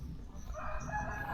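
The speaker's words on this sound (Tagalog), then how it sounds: "Uy, may manok dito." A rooster crows once, a short rising call at moderate distance inside an abandoned school, over low background rumble.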